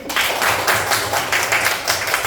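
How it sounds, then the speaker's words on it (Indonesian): A classroom of students clapping for a classmate: a brisk burst of many hands at close range, irregular and lively, running without pause. "Tepuk tangan buat Didik"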